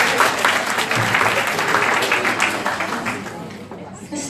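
Audience applause at a REALTORS® tax workshop, a dense, steady clapping from a sizeable crowd that runs throughout and fades slightly toward the end.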